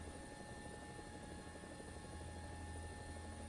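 A helicopter in the War Thunder video game gives off a steady, droning rotor and engine hum at low, even volume throughout, with no voices.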